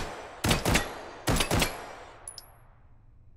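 Two short bursts of rapid gunfire from a firearm in the VR shooter Hot Dogs, Horseshoes & Hand Grenades, loud and close, each lasting a fraction of a second, followed by a faint metallic clink and fading echo.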